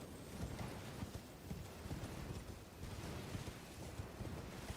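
Horse hooves clopping in a steady galloping rhythm in an Elden Ring-style fantasy video game, with continuous windy rushing noise underneath and no voices.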